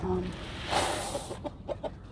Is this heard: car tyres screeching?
no